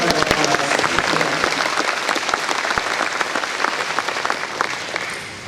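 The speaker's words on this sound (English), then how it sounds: "Let's give them all a round of applause." An audience at an agricultural awareness luncheon bursts into steady, dense applause that fills the room and tapers slightly at the end.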